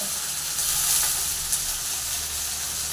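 Food frying in a pan gives a steady, close, loud sizzle and hiss that runs unbroken throughout, with no voices.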